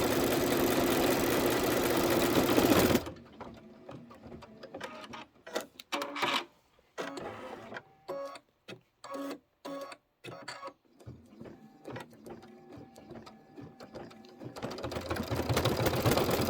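An embroidery machine stitches out a mummy block for a Halloween pillow, its hum and rapid needle rhythm loud for the opening seconds and again at the end, giving way to quieter, intermittent mechanical tapping in between.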